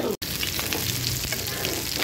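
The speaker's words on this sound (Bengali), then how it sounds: "পেঁয়াজগুলো সামান্য পরিমাণ ভাজা হয়ে গিয়েছে" Onions fry in a pan with a loud, continuous close-up sizzle, broken only by a split-second dropout near the start.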